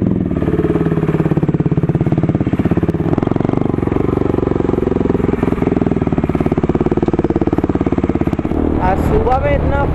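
Motorcycle engine running steadily after a morning cold start, a close, loud, even chugging idle that holds throughout, with a brief burst of other sound near the end.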